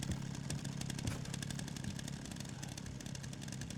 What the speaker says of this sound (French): Alors là gros, j'ai une tronçonneuse.